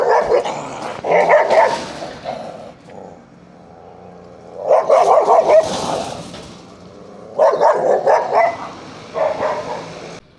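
Dogs guarding homes in a poor neighbourhood of Versalles, Matanzas, Cuba bark in three loud bursts of repeated barks and yips, separated by quieter gaps, fairly close and with no talk.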